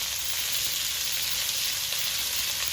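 Chopped onions and green chillies frying in hot oil for chicken chowmein, an even, unbroken sizzle at moderate loudness throughout with no voices.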